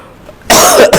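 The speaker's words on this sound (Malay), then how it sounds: "Pertamanya saya minta maaf sebab batuk tak habis lagi." A man with a two-week lingering cough gives one harsh, loud cough up close, followed by a short second burst.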